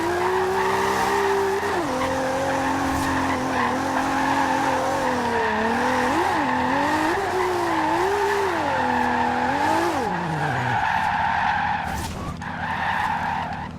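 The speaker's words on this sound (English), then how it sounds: "all-wheel drive means amazing power slides" An all-wheel-drive Toyota Supra power slides in the racing game Forza Horizon 2, its tires squealing long and loud through the slide over a steady, wavering engine roar. The engine note drops and changes near the end.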